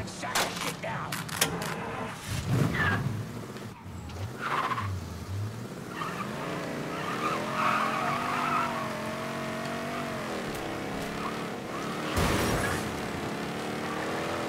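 Car pulling away in Mafia III with tires skidding, a steady engine drone rising and falling under game background noise, with a brief burst of tire squeal near the start.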